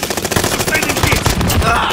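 Loud, rapid machine-gun fire rattles in the first-person shooter Call of Duty Modern Warfare (2019), a continuous stream of close automatic shots with faint game voice chatter underneath.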